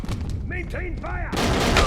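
Gunfire in Wolfenstein (2009), soldiers shouting as a fusillade erupts, with a brief lull of voiced calls before a loud, sustained burst of shots near the end.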